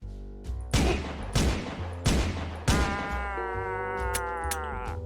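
Video game gunfire, with four loud bursts of shots spaced about a second apart, then a sustained ringing tone that fades. No one speaks.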